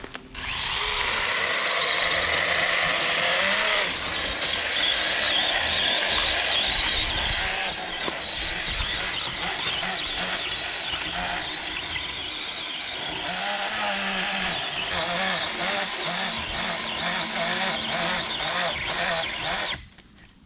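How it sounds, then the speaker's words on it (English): A mini 6-inch electric chainsaw runs loudly for about twenty seconds, its pitch dipping and rising as it bites into the wood of a large tree, then stops. "this is just a small little 6-inch electric chainsaw"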